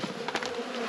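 Honeybees buzz steadily around hives during late-season robbing, a close, continuous insect drone with no voices.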